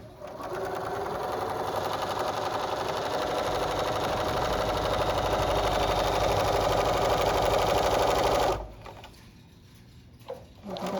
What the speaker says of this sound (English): I'm gonna stitch up here to the 1/4 inch, and that's where I'm gonna stop